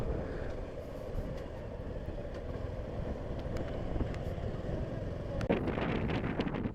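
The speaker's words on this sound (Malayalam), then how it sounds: "അതുപോലെ അതിനനുസരിച്ച് നല്ല ക്രോസ് വിൻസും ഉണ്ട്." Strong crosswind buffeting a Suzuki V-Strom 250 rider on a seaside bridge approach, a dense, constant roar of wind rumble over the microphone, gusting louder near the end.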